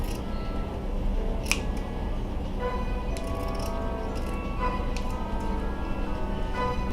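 Scissors cutting lengths of elastic for a snowman made from recycled cans, giving a few soft, close snips and clicks over a steady background hum, with no talking.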